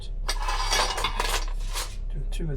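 Big metal baking pans clatter and clink as they are handled close by, a brief burst of rattling metal with a voice speaking near the end.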